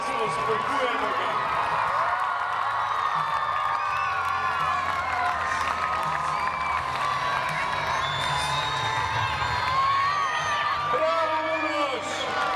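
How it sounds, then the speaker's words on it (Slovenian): A large outdoor crowd cheers, whoops and shouts, children's voices prominent, as an athlete lands on a green lawn at a children's Olympic-style sports event; the dense roar stays steady and loud throughout, with a louder burst near the end. "vsi skupaj navijamo za pristanek Uroša Bana. Dajmo glasno, spodbujemo ga."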